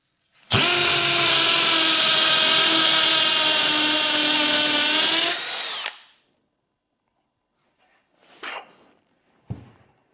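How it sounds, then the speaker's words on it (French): A cordless hammer drill in hammer-drill mode whines steadily and loudly for about five seconds, then winds down, followed by a couple of brief clunks of handling. "passons en mode perceuse à percussion et voyons si ça va plus vite"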